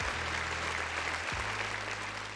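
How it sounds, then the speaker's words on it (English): A livestream audience's applause rolls on steadily for a couple of seconds, a dense, even patter with a low steady hum running underneath and no voices over it. "Another round of applause for the people in the chats."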